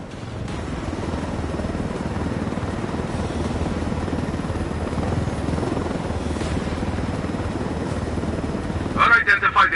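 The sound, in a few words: helicopter flying in video game Ghost Recon Wildlands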